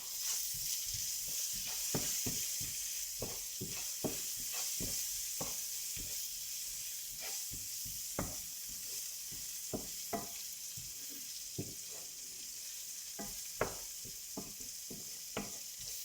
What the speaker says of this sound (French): Une cuillère à café de gingembre. Et je mélange le tout.